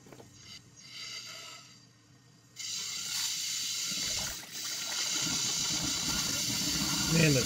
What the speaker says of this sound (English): I've hooked up my air line to the upper hose, and I'm just going to blow some air through it